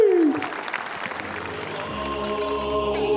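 Audience at a Tahiti Fighting Championship event clapping, a burst of applause fading under music that swells behind it.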